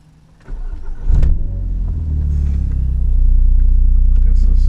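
Audi TTS engine starting up and then accelerating from inside the car, a deep, rising engine drone that swells and holds loud, with a brief clunk early on.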